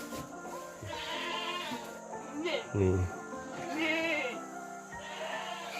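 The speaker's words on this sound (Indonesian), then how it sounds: "Ini daftar ternak kambing." Goats bleat at a livestock farm, several wavering calls overlapping close by, with a person talking through much of it.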